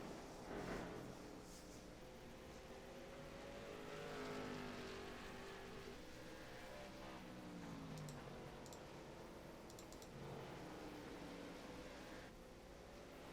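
Late model stock cars lapping Irwindale Speedway, a continuous engine drone with pitch sweeping up and down as cars pass, heard from a distance against a steady crowd and track wash.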